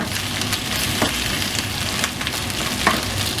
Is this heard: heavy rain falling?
no